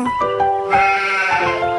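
A sheep bleats loudly and close by in a single drawn-out, wavering call, alone without talk.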